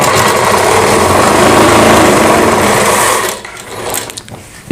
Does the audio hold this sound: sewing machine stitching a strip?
yes